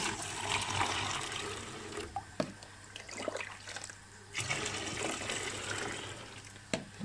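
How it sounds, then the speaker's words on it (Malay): Water poured into a container while preparing a jar for betta fish, a steady splashing pour with a few brief breaks and clatters, fairly near and moderately loud, with no talk over it. "masukkan air ni okey ke dalam bekas yang pertama"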